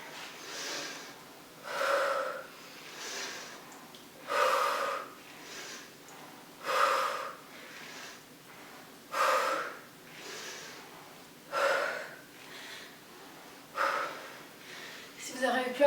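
Heavy, rhythmic breathing while recovering after squat exercises: about eight loud, gasping breaths at a regular pace of roughly one every two seconds, close to the microphone, with no words spoken.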